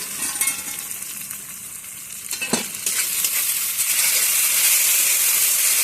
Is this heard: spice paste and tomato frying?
yes